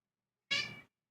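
A house cat gives a single short meow, close and clear, against silence.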